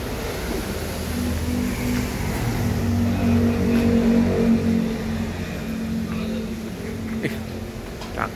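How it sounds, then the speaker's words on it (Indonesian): Buses pulling out and departing from a ticket office, a steady low engine rumble with a faint rising rev toward the middle, continuous vehicle drone at moderate distance with no talking. "Ini banyak keluar nih busnya pada berangkat."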